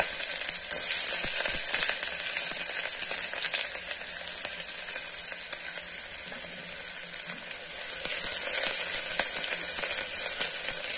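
Onions sizzle and crackle steadily in a hot pan for vegetable pulao, a constant bright hiss with occasional stirring sounds and no talking.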